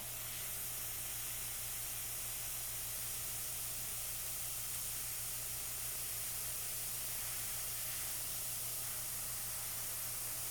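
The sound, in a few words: airbrush spraying water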